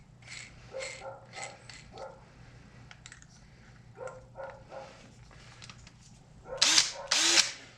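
A Craftsman power drill fitted with a small wire brush scrubs pits on a car part, giving short bursts of whirring and scraping that grow louder in two harsh final bursts near the end.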